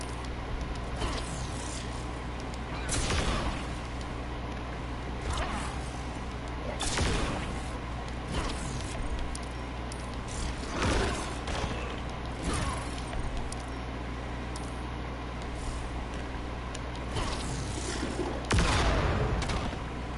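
Explosive Parademons detonate during an Injustice 2 fight, a run of sharp, loud blasts and impacts that land every second or two over a constant rumbling game soundtrack.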